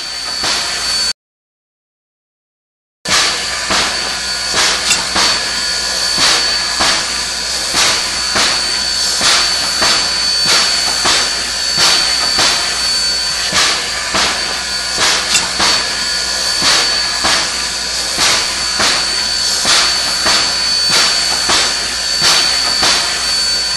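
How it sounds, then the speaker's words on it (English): A steam locomotive in the Trainz video game runs at a fast idle, a loud, steady hiss with rhythmic chuffing pulses that continue evenly after a brief silent gap near the start. "Now all I need is the fast sound, which will play after the locomotive idles for at least 1 minute."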